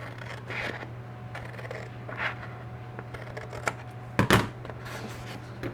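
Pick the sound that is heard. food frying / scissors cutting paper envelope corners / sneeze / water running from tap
scissors cutting paper envelope corners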